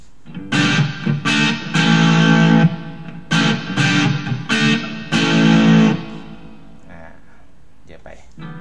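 An electric guitar played through a Tech 21 RK5 pedal with a little reverb added rings out in loud, distorted strummed chords, repeated in bursts with a decaying tail at the end.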